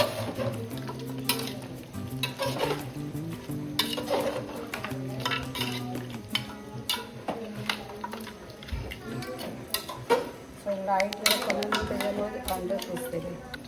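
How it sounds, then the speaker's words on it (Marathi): Mutton pieces being stirred and mixed in a pot for a village-style Konkan curry, with scraping, clinking and a soft sizzle running steadily throughout while a person talks over it. "आता हे प्रॉपर मिक्स करायचं आहे मंडळी"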